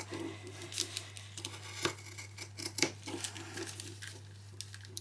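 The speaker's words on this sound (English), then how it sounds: "I'm going to cut all of this out" Scissors cut through fabric while an outfit is prepared for a child, giving a run of irregular snips and crisp tearing clicks close by, some sharper than others, over a steady low electrical hum.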